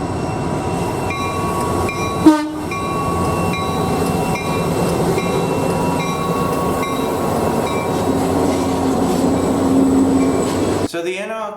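SDS Models NR class Australian diesel locomotive, a model with DCC sound, running with a steady engine drone and horn-like tones, one sharp knock early on, ending abruptly.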